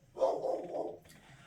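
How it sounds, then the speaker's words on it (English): Pet dogs indoors let out one drawn-out bark that fades after about a second, moderately loud against a quiet room, followed by faint stirring. "my dogs are going a little crazy"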